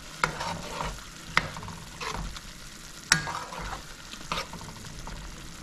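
Bangamary fish curry with green mango and okra simmers in a slightly small pot, a soft bubbling sizzle broken by a few sharp clinks of a utensil against the pot, close and fairly quiet.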